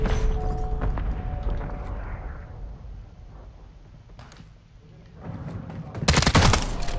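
Gunfire in Call of Duty Modern Warfare 3: scattered sharp shots early, a quieter lull, then a dense loud burst of blasts near the end, with game effects underneath.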